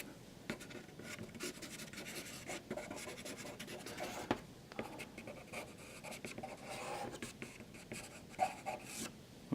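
Pencil sketching on paper for a landscape study, steady close scratching strokes with short pauses and a few sharper taps, quiet and with no voices.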